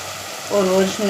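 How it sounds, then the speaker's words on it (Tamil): Onions sautéing in a pan as a Tamil home-style dish cooks, a steady soft sizzle throughout, joined midway by a humming, voice-like tone. "பச்சை வாடை போகிற வரைக்கும் ஒரு நிமிஷம் நல்லா வதங்கி வரட்டும்"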